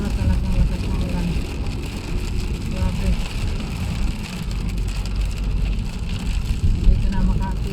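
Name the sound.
heavy rain on a car while driving at night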